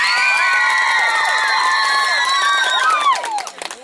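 An outdoor crowd at a karaoke game on a village square cheers for a girl, loud and close, with high-pitched children's shouts and whoops rising and falling over clapping before fading into scattered cries.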